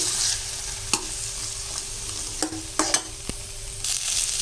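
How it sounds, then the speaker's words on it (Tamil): Onion and tomato sauté in a pan for manathakkali keerai sambar: a soft, steady sizzle runs underneath while a spoon scrapes and taps against the pan in several distinct strokes. "இப்போ நம்ம அரிஞ்சு வச்சுக்கிற தக்காளியும் போட்டு நல்லா வதக்கிடலாம்."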